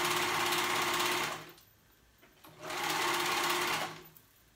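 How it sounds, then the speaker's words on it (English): A sewing machine zigzag-stitches the raw edges of baby fabric pieces in two steady bursts of running, each lasting over a second, separated by a short quiet pause. "We're sewing those raw edges together."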